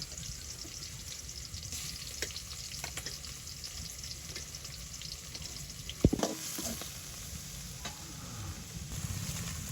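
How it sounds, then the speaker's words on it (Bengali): Small river shrimp frying in oil in a Hatiya village kitchen, a soft, even sizzle with light stirring and one sharp clatter partway through, faint and without voices. "এই যে এখানে ইচা মাছ তেলে দিয়ে নিতেছি"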